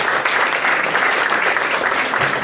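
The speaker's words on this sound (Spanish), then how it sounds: "Un aplauso al Señor." A church congregation claps together in a dense, steady burst of applause that fills the whole moment, with no voices rising above it.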